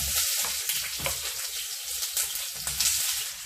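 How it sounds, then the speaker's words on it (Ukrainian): Steady crackling sizzle of onion frying in hot oil, close and fairly loud, with bursts of spitting throughout and no talking. "Цибульку порізали, сковорідка розгрілась і викладаємо."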